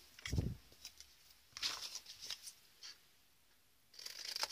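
Scissors trim a folded paper flap for a pocket craft album, giving several short, quiet snipping and rustling bursts up close, with a low thump near the start.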